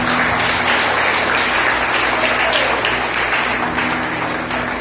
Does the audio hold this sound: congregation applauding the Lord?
yes